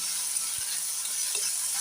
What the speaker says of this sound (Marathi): कढीपत्ता घालून घेऊया, त्यानंतर लागलीच टोमॅटो घालून घेऊया। आता हे व्यवस्थित असं परतून घेऊया।